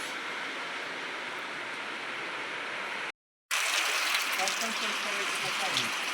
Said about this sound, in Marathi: आज पाऊस म्हणजे पाऊसच पाऊस